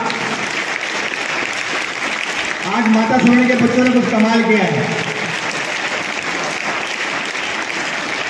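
Students applauding at a school result celebration, steady group clapping running through the clip while someone speaks Hindi over it and a brief musical or chanting swell rises in the middle.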